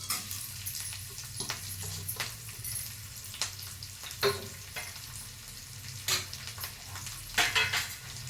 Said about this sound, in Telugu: ఉల్లిపాయ ముక్కలు కరివేపాకు పచ్చిమిరపకాయలు పోపు దినుసులు ఇవన్నీ కలిపి ఇలాగేసుకుంటున్నాను